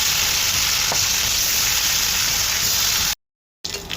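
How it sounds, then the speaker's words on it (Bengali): Fish fries in hot oil in a wok set on an outdoor stove, giving a loud, dense, continuous sizzle up close that cuts out briefly near the end before resuming. "তার কড়াইতে তেল দিয়ে এবার মাছটি দিয়ে দিব।"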